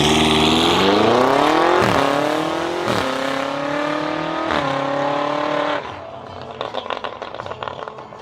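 BMW 4.4-liter twin-turbo V8 revving hard, its loud, close roar climbing in pitch through several gear changes before easing off into a rough, crackling idle.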